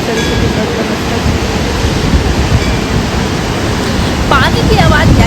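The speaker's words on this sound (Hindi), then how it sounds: "पानी की आवाज़ यानी धारा की आवाज़ इतनी आपको तेज देखने सुने" The Saraswati river near Mana village in Badrinath rushes with a loud, continuous roar of fast-flowing mountain water, unbroken throughout, with a brief faint voice-like sound near the end.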